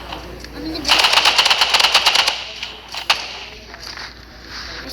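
Rapid automatic gunfire in a video game, a quick rattling burst of about a dozen shots followed by a single louder shot, with players talking.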